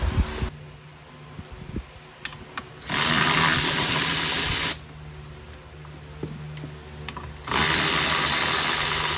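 On a 2000 Durango SLT 4x4, a power tool tightens body lift bolts in two loud sustained bursts of buzzing hiss, separated by quieter clicks and handling noise.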